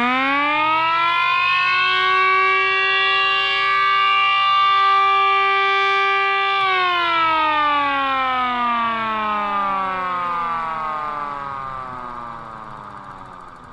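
A Mini H.O.R. Super Sirex miniature siren wailing steadily at a high pitch, then winding down and falling gradually in tone as it slows, loud and close with no talk.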